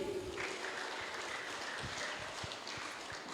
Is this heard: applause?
yes